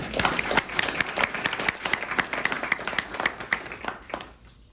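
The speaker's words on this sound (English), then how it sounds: "It is now an appropriate thing to applaud those introductory statements." An audience at a school board candidate forum applauds, with dense, steady clapping from many hands that builds and then fades out over a few seconds.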